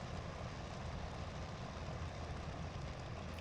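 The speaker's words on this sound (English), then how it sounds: "Hear the engine coming down." A propeller airplane engine in a flight simulator game drones steadily as power is eased back on approach, a continuous broadband roar holding near-constant loudness, with no voices.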